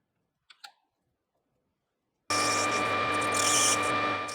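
A lathe starts up with a boring bar hollowing the centre of a brass padlock body, a steady loud whirring and cutting hiss that begins abruptly after a couple of faint clicks and runs on continuously.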